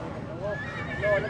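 A mare neighs at a horse market in Gujrat, a clear whinny amid crowd noise, hoof clatter and people talking nearby.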